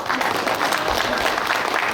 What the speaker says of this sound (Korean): 먼저 박수 한번 쳐주시죠.